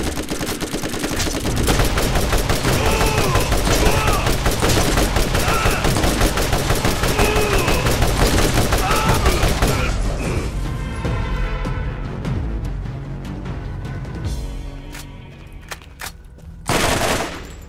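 Gunfire in the shooter video game Borderlands, dense rapid automatic bursts running loud and continuous, thinning out near the end with scattered shots and one final loud burst.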